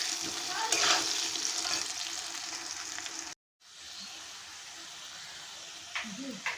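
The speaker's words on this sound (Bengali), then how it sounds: "আলু ভাজা হওয়ার জন্য আমি সামান্য পরিমাণে নুন ছিটিয়ে দিলাম" Potatoes frying in a pan with a steady close sizzle and occasional stirring scrapes, broken by a brief silent gap midway before the frying resumes.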